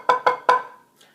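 Crisp drum strokes in a check pattern: three quick, evenly spaced hits, a short pause, then one much softer stroke, played alone with a short ring after each hit.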